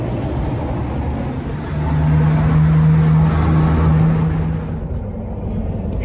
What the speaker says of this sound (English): The only problem is a little more traffic noise over here on this side of the parking lot.